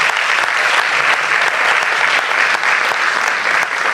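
Steady, dense applause from a large audience at a teachers' pedagogical conference, loud and continuous throughout with no break in the clapping.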